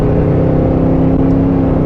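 A 2022 Cadillac Escalade V pulls hard with its aggressive exhaust, a loud, steady low engine drone and throaty rumble that holds throughout with no pauses.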